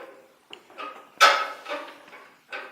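Percussive bow chops on a bowed string instrument, a regular chop landing on beat 3 amid lighter ghost chops, giving a scratchy rhythmic pattern of short scrapes with one louder accented stroke near the middle.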